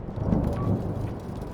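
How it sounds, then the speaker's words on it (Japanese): Thunderstorm ambience in the exploration game Return to Grace: a low rolling rumble of thunder over steady rain, heavy and continuous, heard alone without speech. "嵐が来るのかな"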